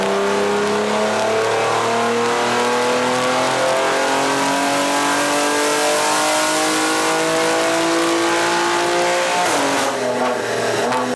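Loud, continuous engine roar from a BMW G87 M2 on a dyno during a tune run, pitch climbing steadily through the rev range before dropping sharply near the end, with no talk over it.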